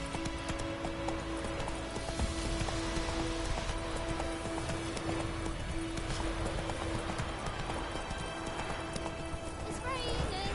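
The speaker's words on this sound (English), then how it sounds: "It's raining." Rain patters steadily in a PS4 video game, with horse hooves clip-clopping through it and a voice talking over the scene.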